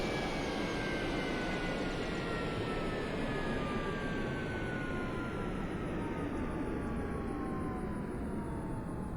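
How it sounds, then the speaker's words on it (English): The jet engine of an A-4E-C in a flight game spools down to a stop, its high whine sliding steadily lower in pitch over a constant loud roar that holds throughout. "Wait until the engine comes to a complete stop."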